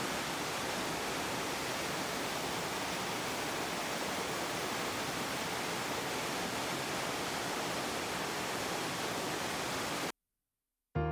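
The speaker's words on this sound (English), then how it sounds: "After covering the trekking area, you will come across this beautiful waterfall." The Vazhvanthol waterfall in Trivandrum, Kerala, gives a steady, dense roar of falling water, continuous and full at close range, before it cuts out abruptly near the end.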